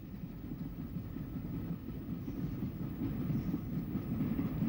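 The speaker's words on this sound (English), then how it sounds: "Whitwell approaches Smallbrook with a Ryde train." The vintage steam locomotive Whitwell approaches Smallbrook on the Isle of Wight railway with a Ryde train, a steady low rumble of wheels and carriages that swells slightly as it draws nearer.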